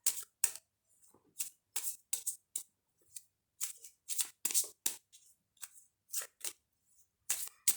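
A goddess oracle card deck is shuffled by hand in close, crisp bursts of riffling and snapping cards, repeated in an irregular rhythm with short silent gaps and no talking.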